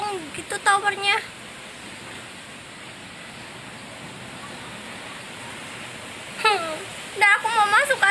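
Heavy rain and strong wind in a storm in Kalimantan make a steady, dense wash of noise throughout, while a person talks excitedly in short bursts at the start and end.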